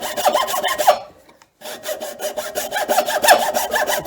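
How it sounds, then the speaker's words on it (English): A hacksaw cuts through a wooden buttstock in steady back-and-forth strokes, close and loud, with a short pause midway before the rasping sawing picks up again. "That's why I like the hacksaw."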